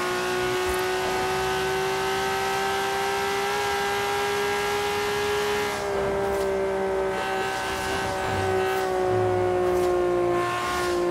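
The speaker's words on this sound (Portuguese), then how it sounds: "Leve os bombadelas no acelerador. Permite um som lindo." A Nissan Skyline GT-R R32 engine in Forza Horizon holds a steady loud drone with rising and falling harmonic tones as the throttle is blipped, then settles into a sustained rev.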